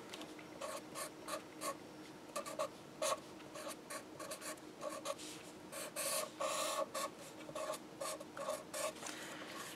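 Pen or stylus strokes on a writing surface come in quick, faint scratchy bursts, irregular bunches of short marks across a quiet background with no talking.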